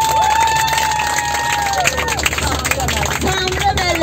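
A group on an outing applauds a teacher: dense, continuous clapping mixed with crowd noise and a loud voice speaking over it, fairly close.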